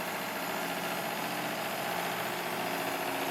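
Live steam engine powering an RC fishing boat in a tub test, a fast, even chuffing and mechanical whir holding steady, close and continuous.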